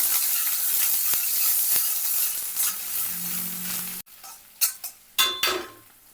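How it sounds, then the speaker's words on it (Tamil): Onion and two dried red chillies sautéing in a pan for turkey berry fry, a bright hissing sizzle for four seconds, then quieter with a few sharp scraping stirs of a utensil. "இதோட ரெண்டு செத்தல் மிளகை சேர்த்து சேர்த்துக்கொள்கிறோம் சேர்த்துட்டு இதை கொஞ்சம் வதக்கி கொள்ளுவோம்"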